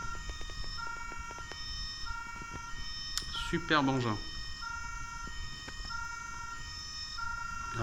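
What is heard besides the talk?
Playmobil City Action police van toy siren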